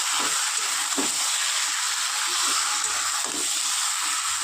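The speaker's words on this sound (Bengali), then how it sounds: "এবার খুব ভালো করে কষিয়ে নেব" Omelette curry with pointed gourd sautéing in a pan: an even, loud sizzle and hiss runs throughout, with a few soft scrapes of stirring.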